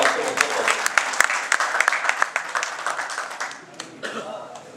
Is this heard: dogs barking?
no